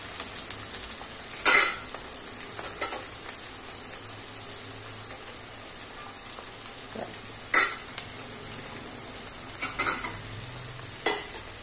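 Ginger, green chillies and curry leaves fry in oil in a pan with a soft continuous sizzle, broken by several sharp scraping stirs of a spoon against the pan; no one speaks.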